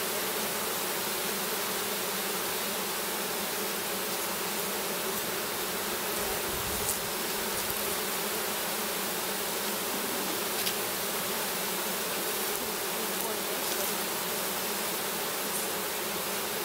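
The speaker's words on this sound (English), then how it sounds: "Awful lot of bees in there." A swarm of honeybees hums in a dense, continuous drone, close and steady throughout, with no speech.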